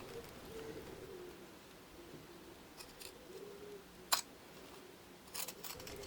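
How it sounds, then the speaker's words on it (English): Pinking shears snip through fabric while trimming excess from a sewn cami top, a few faint crisp cuts with one sharper snap and a cluster near the end against a quiet room. "we are trimming back the excess using pinking shears, which will ensure that this fabric won't fray"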